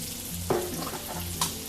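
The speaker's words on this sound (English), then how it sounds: "that's what you want to hear, that sizzle" Chicken fingers sizzle in a deep fryer of hot oil at about 350 degrees, a soft continuous crackle with a couple of brief louder pops.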